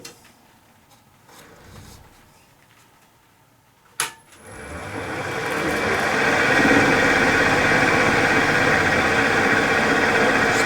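A wood lathe spins up on a manzanita burl: a sharp click, then a rising whir that settles into a steady, loud machine drone. Faint handling noises come before the start.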